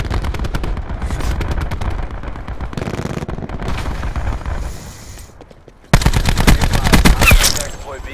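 Heavy gunfire with dense rapid bursts and scattered single shots, loud throughout, then a sharp jump to an even louder barrage near the end.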